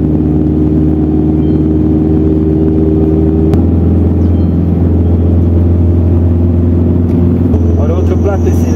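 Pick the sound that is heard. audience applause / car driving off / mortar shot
car driving off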